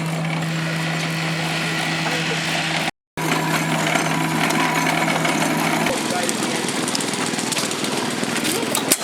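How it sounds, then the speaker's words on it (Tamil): An old steam-powered stone crushing machine runs at a steam engine fair, a loud continuous mechanical drone with a steady hum and rattling texture, briefly cut out once, while someone talks over it. "இது வந்து கல் உடைக்கிற மிஷின்."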